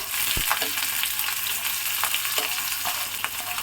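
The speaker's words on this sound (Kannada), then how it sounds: "ಈಗ ಈರುಳ್ಳಿ ಹಾಕೊಂತ ಇದ್ದೀನಿ." Chopped onions dropped into hot tempering oil with cumin, mustard seeds and curry leaves, sizzling steadily and loudly with a few sharp pops and clicks of stirring.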